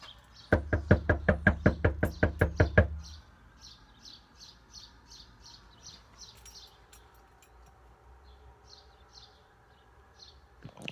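A burst of about ten quick, loud, evenly spaced knocks on a door, then quiet with birds chirping faintly in the background.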